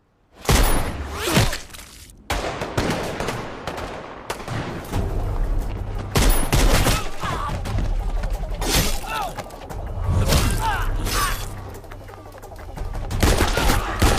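A loud RDX blast in a Hindi action thriller erupts after a short lead-in, followed by sustained rumbling destruction, cracking debris and repeated gunfire-like bursts across the scene, with further heavy impacts near the end.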